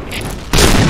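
Grenade blast in the shooter game Point Blank, a single loud booming burst that hits abruptly and sustains to the end after a quieter lead-in.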